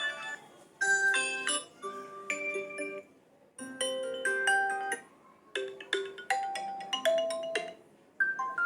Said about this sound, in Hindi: तो ये अलार्म साउंड है।